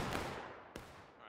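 Musket volley in War of Rights, a broad crackling burst of massed gunfire that decays, followed by a second sharp shot, distant and fairly faint.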